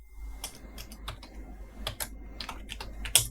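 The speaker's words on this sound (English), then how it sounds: "if you come here in Excel and if you type for" Typing on a computer keyboard while working in an Excel spreadsheet: a quick, irregular run of close, crisp key clicks with a slightly louder tap near the end, over a soft low hum and no talking.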